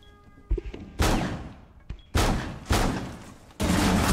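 Bursts of gunfire in Rainbow Six Siege, several sharp loud volleys at irregular intervals with a brief isolated crack between them, each burst decaying quickly, no talking.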